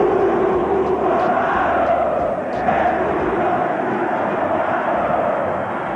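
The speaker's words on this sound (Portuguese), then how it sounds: "A torcida do Botafogo também criou seu próprio grito de torcida." Botafogo football fans chant together as a massed stadium crowd, a dense, continuous roar of many voices with no pauses, loud and steady throughout.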